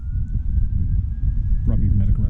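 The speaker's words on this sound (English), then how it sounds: "I hear sirens now" A faint, distant siren, probably a medic rescue vehicle, holds a steady tone over low traffic rumble during a flood, with a voice briefly speaking near the end.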